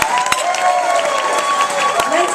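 A dinner crowd at the Monroe County Republican Party's 2011 Reagan Dinner breaks into loud, steady applause mixed with cheers and voices, close and continuous throughout.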